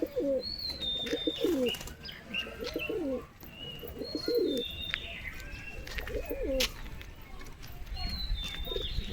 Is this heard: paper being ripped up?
no